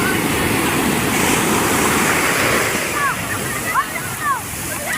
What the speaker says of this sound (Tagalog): Ayan na, malaki yung alon guys.